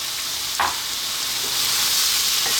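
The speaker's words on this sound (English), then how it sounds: "next step we're going to add our potatoes" Parboiled potatoes drop into a hot pan on lively heat, giving a brief louder burst followed by a steady, close hiss of frying.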